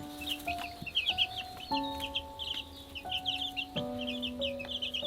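Meaty table chickens raised for slaughter on a UK smallholding, clucking and murmuring steadily in a busy flock, with repeated short calls over a low background hum and no talking.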